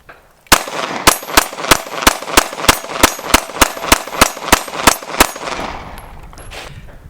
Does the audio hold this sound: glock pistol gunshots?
yes